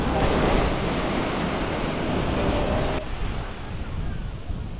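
Waves crash on the beach at Praia Grande in Arraial do Cabo, a continuous loud surf roar mixed with wind buffeting on the microphone, dropping slightly in level partway through.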